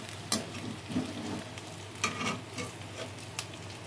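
Chicken pieces frying with chili powder and masala, stirred in a pan, a low steady sizzle broken by a few scraping stir strokes, fairly faint and close, with no talk.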